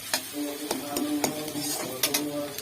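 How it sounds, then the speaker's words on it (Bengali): Onions fry in a pan over whole spices, a soft sizzle punctuated by repeated clicks and scrapes of a spatula stirring against the pan, close by and with no speech. "পেঁয়াজগুলো এবার লাল লাল করে ভেজে নেব।"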